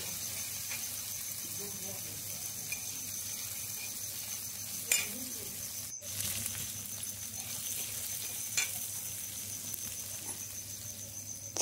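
Garlic and onion fry in a generous amount of oil in a pan, cooked until reddened for a farm-style vegetable dish. A continuous soft sizzle hisses steadily throughout, with a few faint clicks and scrapes.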